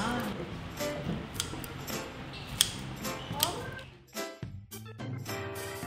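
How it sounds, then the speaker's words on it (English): Scissors or a knife cut through a sugarcane smoked chicken wing in a run of crisp snips and clinks against a plate, close and fairly quiet, with a person talking alongside. "Okay, I'm gonna cut the wing for them, huh?"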